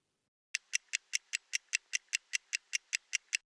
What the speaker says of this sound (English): I have the stopwatch that I used